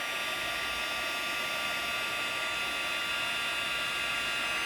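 A heat tool blows steadily to set embossing on a digital stamp, a constant close whooshing hiss with no breaks, heard alone.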